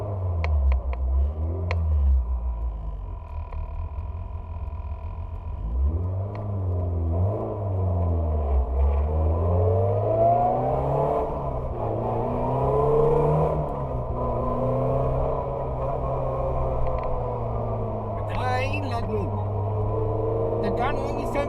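Ford Puma rally car engine droning and revving as it drives, pitch rising and falling through gear changes, loud and close throughout with a voice talking over it.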